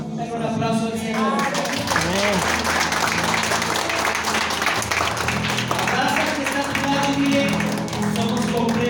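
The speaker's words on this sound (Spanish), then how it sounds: "Dale un aplauso al Señor." A church congregation claps throughout, a dense steady patter of applause with a voice speaking over it and some music in the background.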